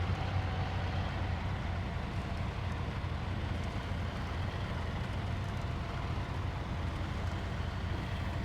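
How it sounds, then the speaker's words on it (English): Truck engine in SnowRunner idling and chugging unevenly, as if close to stalling, a steady low rumble throughout with no talk. "Engine audio is a bit weird though. Like you're not really sure if it's stalling or not."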